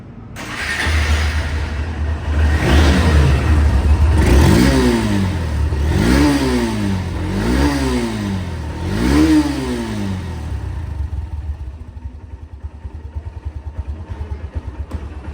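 A second-hand Honda CB Hornet motorcycle with double disc brakes revs close by, its engine rising and falling in four sharp throttle blips over an idle, then dropping back to a steady idle.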